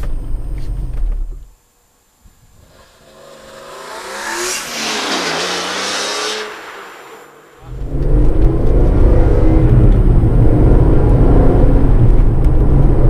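A BMW E46 M3 drives along, its engine rumbling and revving up through a gear, then a loud, dense roar of road and engine noise as the car gets rolling.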